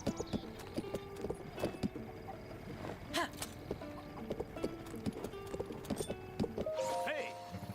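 Rhythmic clip-clop of hooves trotting in a game, with brief chimes and tones layered over the steady hoofbeats and a short whinny near the end.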